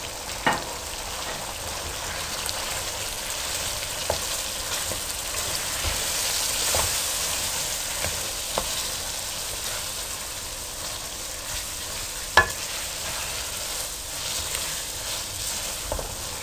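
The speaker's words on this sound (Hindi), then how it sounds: "अब इसमें कीमा डाल देती हूँ। एहतियात से डालें, जब ऑयल आ जाए तो एहतियात से डालें।" Minced meat (keema) frying in oil with masala for aloo keema, a continuous close sizzle and crackle with occasional spoon taps and stirring knocks.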